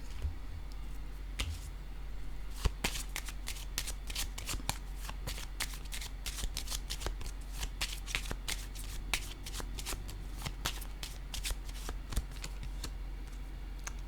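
A deck of cards is shuffled for a card reading, giving quick close riffling and snapping flicks that repeat steadily throughout.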